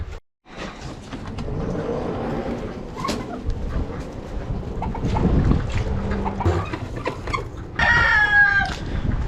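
Chickens penned in poultry netting cluck and murmur amid a busy outdoor din, with a louder squawking call near the end.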